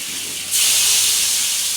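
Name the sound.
hilsa fish pieces added to a hot pan, sizzling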